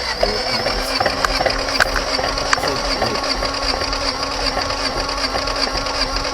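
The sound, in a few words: Honda D15 engine cranking during compression test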